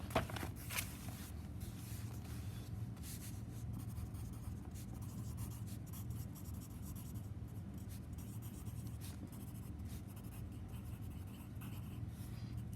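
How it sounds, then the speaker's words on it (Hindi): A pen scratches across notebook paper in steady, quiet strokes, close up and alone, with short pauses between the bursts of writing. "नेक्स्ट पेज पे लिखते हैं।"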